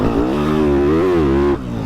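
A Yamaha 250 YZF four-stroke motocross bike engine holds high revs with a buzzing, rising and falling pitch, loud and close, then drops off slightly at the end.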